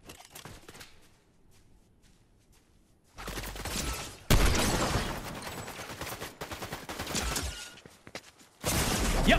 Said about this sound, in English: But they're firing at something real. They're shooting at me.